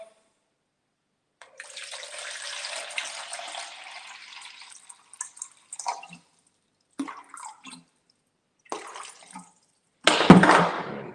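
Water poured for Roman pan pizza dough, a broadband splashing stream running steadily for about four seconds, then a few short intermittent trickles and drips, ending with a brief louder splash.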